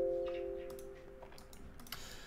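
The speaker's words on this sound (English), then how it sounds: "all you need to do is type W and hit enter" A handful of quiet, crisp keystrokes on a computer keyboard, spaced out as a single letter and the enter key are pressed, with a faint steady hum underneath.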